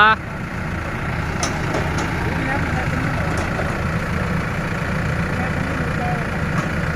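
A farm tractor engine runs continuously with a low, rumbling drone while pushing a stuck vehicle, steady and fairly close, with faint clicks and background sounds on top.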